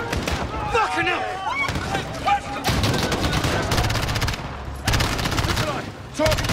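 Dense, loud gunfire rattles through a Call of Duty Modern Warfare battle: rapid automatic bursts and crackling shots in long sustained volleys with brief pauses, mixed with game dialogue.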